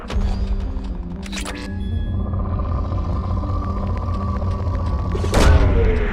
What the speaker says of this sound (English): Launching probe. Probe away.